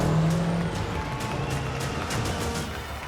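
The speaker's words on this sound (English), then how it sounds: "Big rigs line up in their starting positions for the main event." Roaring engines of big rig trucks racing rumble together, with repeated whooshes as they surge past at close range.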